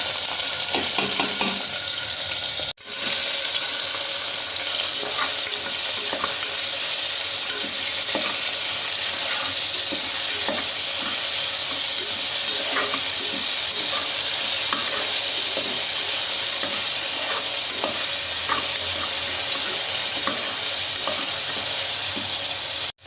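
Onion, tomato, green chili and ginger-garlic paste fry in oil inside a pressure cooker with a loud, constant sizzle and repeated stirring scrapes throughout, no speech.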